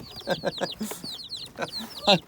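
A bald-necked mother hen clucks repeatedly in short, agitated bursts while defending her chicks, which peep around it, with a sharp squawk near the end.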